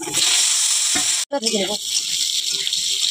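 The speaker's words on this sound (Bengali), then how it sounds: "মাছগুলোকে তুলে নেবো, পটলগুলো ভেজে নেবো।" Pointed gourd (potol) fries in hot oil in a pan, a close, bright sizzle that drops out for a moment and then resumes, with a short burst of voice over it.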